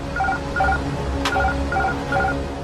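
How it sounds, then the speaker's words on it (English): Autopilot disconnect alarm in the Air France 447 cockpit, sounding as a repeating two-tone chime about five times in a steady rhythm over constant cockpit hum, with one brief sharp click partway through. "The alarm warns the crew that the autopilot has shut down and handed control back to them."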